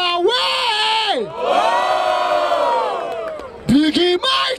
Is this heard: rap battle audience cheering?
yes